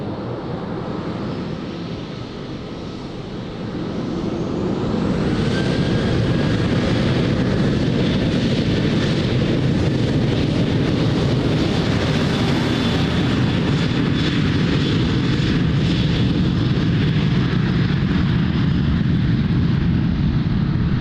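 An airliner takes off from runway 02 at Lisbon Airport, its engines building from a steady roar into a loud, sustained thunder that holds strong to the end.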